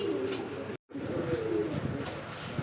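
Lahori, Satin and Bombay pigeons for sale coo together in a dense, continuous chorus close by, overlapping throaty calls broken by one brief dropout.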